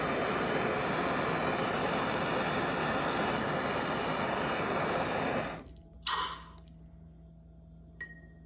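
A torch annealing a 2011 Kennedy half dollar silver coin ring, a steady roaring hiss for about five seconds that cuts off, followed by a couple of light metallic clinks.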